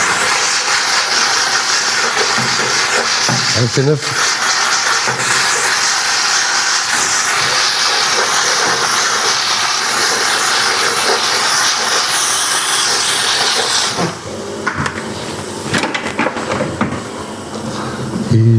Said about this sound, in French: Petit coup de vapeur.